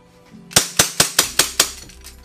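An EMG Hudson H9 airsoft pistol fired until the magazine is empty, six sharp, close cracking shots at an even, quick pace, each with a short metallic ring, then silence.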